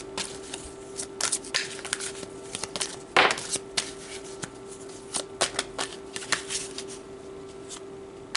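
Tarot cards are shuffled and drawn by hand, a close series of crisp riffling bursts and paper flicks with one louder slap midway, irregular and continuous across the stretch without any speech.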